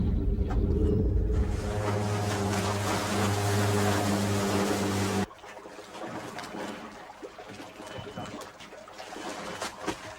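Boat engines running on tropical water while tracking a tiger shark: a loud, steady low rumble with water wash for about five seconds, then the engines cut and only quieter water splashing and trickling remain.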